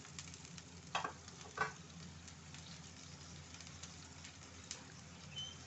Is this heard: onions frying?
yes